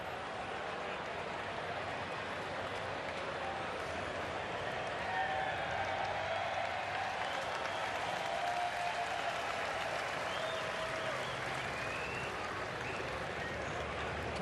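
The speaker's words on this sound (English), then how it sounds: "A lively crowd here." A baseball stadium crowd at a Los Angeles Dodgers at Tampa Bay Rays game keeps up steady, distant applause and cheering, an even wash of clapping that runs throughout without breaks.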